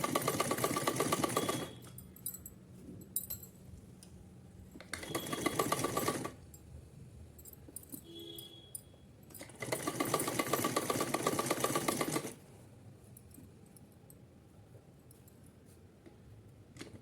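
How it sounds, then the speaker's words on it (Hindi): A sewing machine runs straight stitches attaching elastic onto cotton fabric, three loud whirring bursts of a few seconds each separated by quiet pauses with faint handling sounds. "और यहाँ सीधी सिलाई लगा के चलेंगे"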